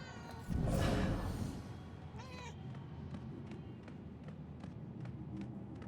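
A cat in the video game Murdered: Soul Suspect gives one loud, drawn-out meow near the start, followed by a softer chirp and faint light taps over steady background ambience.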